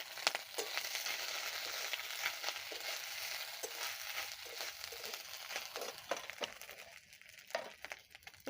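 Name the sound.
grated coconut added to frying pan with bay leaves, chilies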